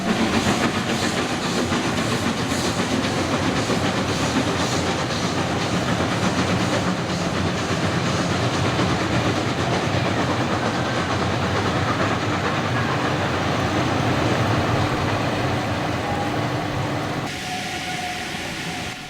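A narrow-gauge train on Austria's Feistritztalbahn rumbles past at steady volume with rhythmic rattling and clatter of wheels on track, then the noise abruptly drops to a quieter hum.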